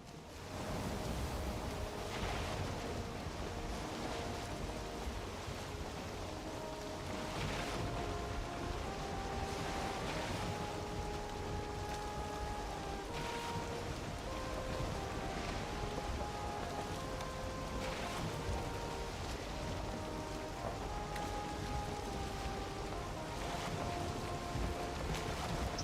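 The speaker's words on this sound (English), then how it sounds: "And now we are on the ocean." Steady ocean wash while sailing a boat at sea in Valheim, a continuous hiss-like surge of water with soft swelling pulses and faint tonal music notes drifting underneath.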